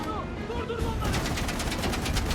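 Enemy gunfire in Uncharted 4 crackles as rapid, repeated bursts that grow denser in the second half, with a low rumble beneath.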